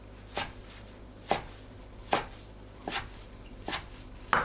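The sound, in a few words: knife chopping green laver (parae) on a board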